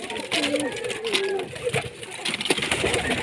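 Large pigeons kept for sale in Multan give soft, low coos under a man's nearby speech.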